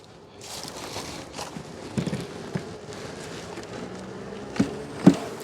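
A low, soft buzzing of many bees hums throughout, with occasional light knocks and clicks close by.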